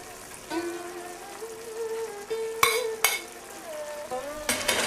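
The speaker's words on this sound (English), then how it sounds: "let's get our beef back into the wok" Beef stirred in thick tomato sauce in a wok, with scraping spatula strokes, soft sizzling and a couple of sharp metallic clanks against the pan, fairly close and without talk.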